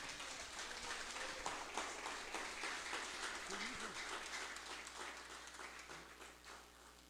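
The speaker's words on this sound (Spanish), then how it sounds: "Demos un aplauso al Señor." Congregation clapping at a church ministers' convention, a full, steady round of applause with a voice briefly audible within it, easing off toward the end.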